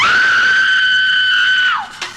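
A woman's scream in a Buffy the Vampire Slayer TV episode (season 2, episode 2): one loud, sustained, high-pitched shriek that holds steady for almost two seconds, then falls away sharply and stops.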